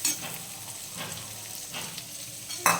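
Chopped onion sizzles in hot oil on a low gas flame for a masala dosa filling, a soft continuous frying hiss with faint stirring scrapes and a sharp clatter at the end.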